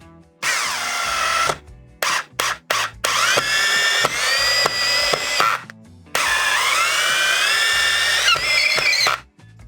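A Procraft PA12BL brushless cordless screwdriver drives screws, its motor whining loudly in long bursts broken by short stop-start pulses, rising in pitch as each screw seats.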